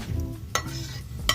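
Boondi being stirred into a pan for laddu, with a few short scraping clatters of a spoon against metal over a low background hum.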